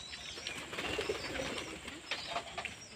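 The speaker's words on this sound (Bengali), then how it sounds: "দেখুন না সব পায়রা উঠছে," Pigeons coo and flutter as they fly up from a rooftop loft, with soft, fairly faint calls and wing sounds over a busy outdoor background.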